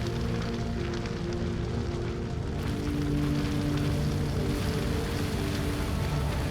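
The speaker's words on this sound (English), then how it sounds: "Oh, it's raining." Steady rain in the video game Prison Architect hisses and patters continuously, a dense wash of noise with a low hum underneath, fairly constant throughout without any talking.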